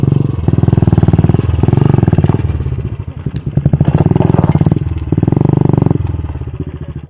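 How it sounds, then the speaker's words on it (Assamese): A motorcycle labours up a rough, broken road, its engine thudding in loud close bursts that rise and dip as the rider pushes through the bumps, with rattles and clunks between throttle pulses. "দেখাই দি আছোঁ চাই থাকক কেনেকৈ মোৰ বাইকখন উঠাওঁ"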